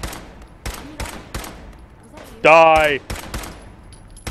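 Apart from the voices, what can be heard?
gunfire from a raider in video game Fallout 4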